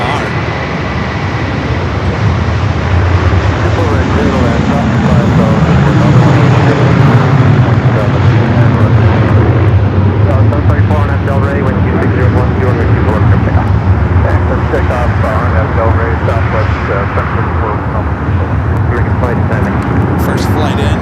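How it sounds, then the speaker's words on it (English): An Air France Boeing 777-300ER arriving at LAX from Paris, a loud sustained jet roar that swells and holds with a broad rumbling wash, engines dominating throughout. "Next arrival is Air France Flight 20 coming in from Paris, 777 at 300 ER."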